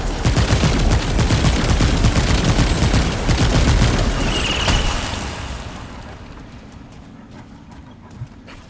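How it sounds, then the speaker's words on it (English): Rapid, dense bursts of gunfire and blasts from the video game Remnant 2 roar loudly for several seconds, then fade into a quieter rumbling aftermath with a faint late thud. "Yay, explosions."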